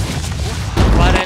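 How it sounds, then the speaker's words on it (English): Cannons fire in the Phoenix Point: Terror from the Void strategy game, a burst of heavy booming blasts that swells louder in the second half, with a voice talking underneath. "These cannons."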